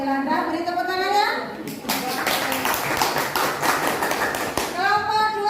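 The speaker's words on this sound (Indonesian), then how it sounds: "Beri tepuk tangannya." A classroom gives a burst of applause from many hands lasting about three seconds. Children's voices come before and after it.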